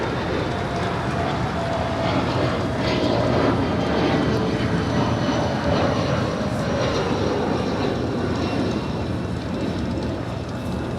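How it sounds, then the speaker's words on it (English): Bombardier Challenger 604 business jet departing LAX, its engines giving a steady, loud broadband roar that holds evenly throughout with no talk over it. "That is a Bombardier Challenger 604. Departing to Bellingham."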